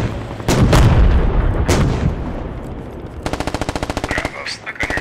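Gunfire and high-explosive rounds in the Squad military video game: heavy booming blasts first, then a rapid burst of machine-gun fire with scattered shots, loud and close, with voices partly under the fire.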